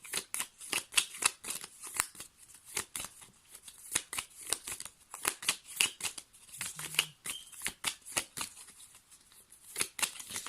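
Tarot cards are shuffled and drawn by hand, a rapid run of crisp papery riffles and flicks in irregular bursts, close and fairly quiet, with no talking.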